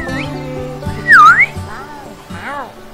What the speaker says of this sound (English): Press shift to whistle for him.